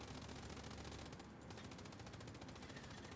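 Sustained machine gun fire in a tank-and-infantry combat video game rattles as a continuous rapid burst of closely spaced shots, faint and steady for about three seconds with no talk.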